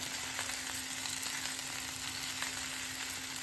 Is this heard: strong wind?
no